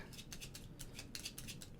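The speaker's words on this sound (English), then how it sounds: "Shuffle up the enemy action deck." Cards from a small mint-tin deck-building game's enemy action deck are shuffled, making a run of quiet, rhythmic crisp snaps and riffles, about a dozen bursts in quick succession, heard up close with no talk.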